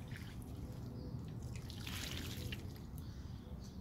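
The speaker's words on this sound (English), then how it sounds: "Gotta water my tomatoes." Water trickling and dripping onto tomato plants in a garden, a soft continuous patter heard alone and fairly quiet.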